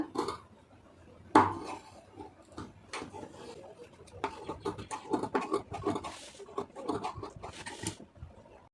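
Scissors cutting chudithar fabric for piping, snipping notches close together along the edge; irregular light clicks and crisp snips, near and fairly quiet, with a sharper sound early on.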